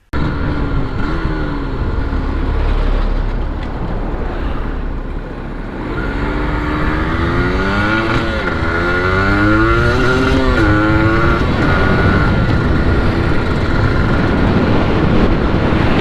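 A Yamaha DT125 two-stroke motorcycle with YPVS power valve, recently reassembled after power valve repair, is ridden through the gears, its engine revving up and down in repeated rising sweeps, loud and close throughout with no talking.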